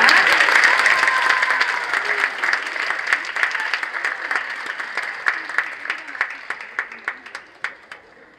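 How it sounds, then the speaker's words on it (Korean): Audience applause at a multicultural immigrant choir competition award ceremony in 2022, a dense round of clapping that gradually thins into scattered individual claps and dies away. "여러분 큰 박수 부탁드립니다."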